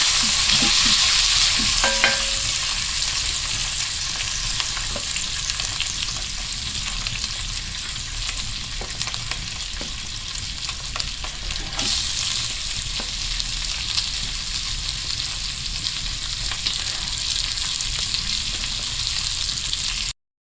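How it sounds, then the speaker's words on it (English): Diced onion sautéing in bacon grease in a pan for bacon potato chowder, a steady close frying sizzle with stirring and occasional scraping clicks throughout, no talking. "go ahead and saute that in with the bacon a little bit"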